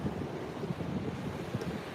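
A stormy sea surges onto a wide beach at low tide, a low continuous rumble of surf mixed with wind buffeting the microphone.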